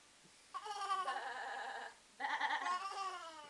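A child mimics a sheep's bleat, two drawn-out wavering cries of about a second and a half each, with a short gap between them, close and fairly loud.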